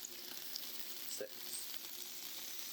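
Butter melts in a pan for garlic butter mushrooms, making a faint, even sizzle with a few tiny crackles and one soft clink partway through.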